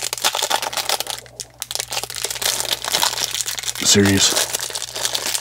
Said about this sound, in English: Get it by unwrapping the pack